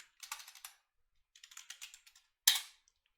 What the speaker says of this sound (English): Let's type in git branch.